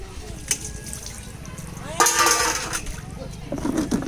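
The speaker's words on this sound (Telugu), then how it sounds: "ఈ కొద్దిగా చికెన్ ఇలా శుభ్రంగా ఇట్లా కడుక్కొని నీళ్ళు వేసుకోవాలి" Water sloshes and splashes as chicken is rinsed by hand in a basin, with occasional louder splashes and a voice talking over it.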